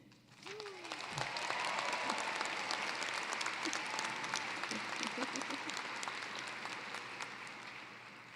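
Sustained audience applause fills a large hall at Eastern Michigan University's 2022 winter commencement ceremony, a dense steady wash of many hands lasting throughout, with a brief voice near the start.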